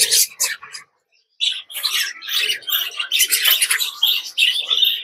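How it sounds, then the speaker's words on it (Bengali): Many budgerigars chirp and chatter in bursts, a busy flock of high, scratchy calls with a short pause near the start. "এখানে প্রচুর বদ্রি পাখি আছে"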